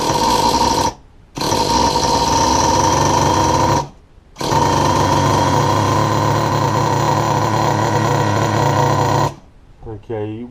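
Traxxas Jato nitro RC car engine fires up and runs at a loud, steady buzzing whine, cutting out briefly twice before dying away near the end.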